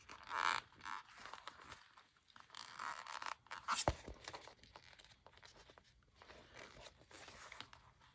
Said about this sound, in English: I think I have to peel this back.